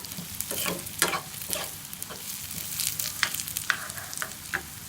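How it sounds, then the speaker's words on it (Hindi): Onions frying in oil for a restaurant-style masala egg curry, a steady close sizzle broken by frequent scraping stirs of a spoon in the pan, with no voices. "हमारे जो प्याज है वो फ्राई हो रहे हैं।"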